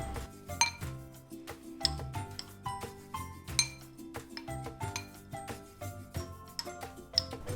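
A spoon stirs sprouts with lemon juice in a dish, producing a string of light, rhythmic clinks and taps of metal against the bowl, close and quiet, with no speech.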